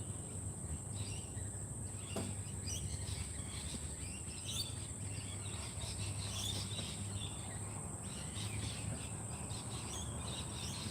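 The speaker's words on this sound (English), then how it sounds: "There's so many birds around." Birds chirp and call outdoors in Brisbane after rain, their short calls scattered over a constant shrill drone of insects in the background.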